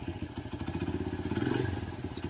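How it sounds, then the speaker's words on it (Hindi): A motorcycle engine idles steadily with an even, rapid thumping pulse, running after being unlocked by a GPS tracking device; close and fairly loud, with no talking. "हमारा जो बाइक है वो स्टार्ट हो चुका है"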